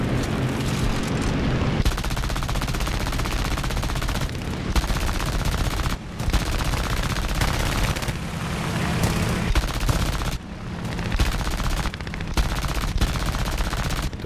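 Sustained bursts of aircraft machine-gun fire in the War Thunder air arcade battle, a dense, loud rattle running nearly continuously with brief pauses between long volleys.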